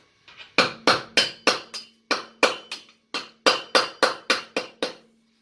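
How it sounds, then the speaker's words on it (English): On an Opel Astra G, a chisel taps at the hub nut. Sharp metallic strikes come in quick bursts of four or five, separated by short pauses, each ringing briefly and close to the listener. "just take a chisel and tap it out"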